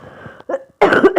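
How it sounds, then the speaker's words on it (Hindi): A woman coughs repeatedly and close up: a rough throaty cough, a brief pause, then a louder burst of harsh, forceful coughs. "सॉरी खांसी बहुत ज़्यादा आ रही है"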